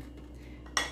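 A short metallic clink of cutlery against a dish rings out near the end as a knife spreads filling onto sandwich bread in a home kitchen, after a quiet stretch with a low steady hum.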